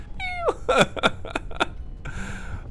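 A cat in the video game Stardrop meows in a quick run of four or five close, bright cries, followed by a softer, longer mew after a short pause.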